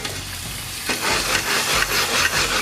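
Clams tipped into a hot pan with garlic, then covered with a lid: a rattling clatter of shells hitting the metal, followed by busy sizzling and scraping as the pan is shaken, close and fairly loud.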